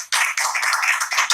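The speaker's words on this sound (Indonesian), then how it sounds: "Tepuk tangan buat Ustadz K." Applause for a guest at the opening of a talk show, a short burst of dense clapping, near and fairly loud, with no other sound over it.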